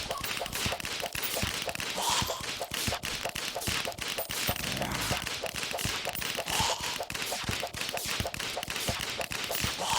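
Rapid sharp gunfire cracks out in the Terraria video game, dense repeated shots in quick succession amid busy game sounds, with a voice talking faintly underneath.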